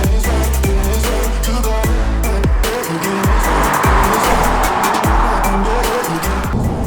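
A BMW 1 Series driving on the road, engine loud and close throughout, with repeated gear-shift revs rising and dropping in a steady cycle and no talk.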